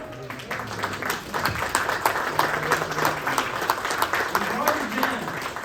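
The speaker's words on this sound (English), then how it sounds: "Give yourself a round of applause." Audience applause fills a conference hall at the close of an interactive talk at Nordic Game Jam 2025, a dense, sustained clapping with a voice speaking over it.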